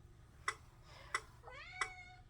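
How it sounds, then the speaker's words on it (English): A house cat meows three times in short, evenly spaced cries, with a drawn-out, rising call between the second and third, fairly near against a quiet room hum. "Hey, my cat woke up."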